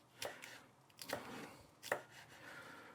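A knife chops fresh chilli into small pieces on a board, giving three or four sharp, close, quiet cuts with short pauses between them.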